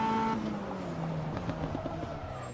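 An MCR 2000 race car braking hard into British corner, engine note dropping through downshifts with tire noise, loud and close from onboard.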